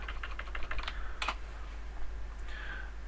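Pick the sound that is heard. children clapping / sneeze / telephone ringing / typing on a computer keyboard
typing on a computer keyboard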